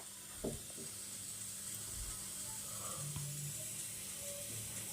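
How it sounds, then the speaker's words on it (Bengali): Diced onions fry lightly in a wok for chili chicken, giving a soft, steady sizzle with a brief clatter near the start. No one speaks. "একটু হালকা ভাজা ভাজা করে নিচ্ছি পেঁয়াজটাকে"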